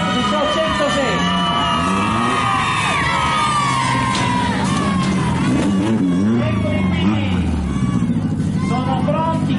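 Crowd at a car rally, the Rally Ronde del Barocco Salentino in Tricase, cheering and whooping loudly and steadily throughout, with an amplified voice speaking over the din.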